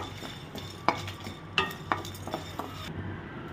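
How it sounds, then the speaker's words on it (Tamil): Spices being roasted and stirred in a dry pan over a low flame, with scraping and light metallic clinks of a spoon against the pan at an irregular pace. "இதை நல்லா லோ ஃப்ளேமில் வச்சு வறுத்து எடுத்துக்கோங்க."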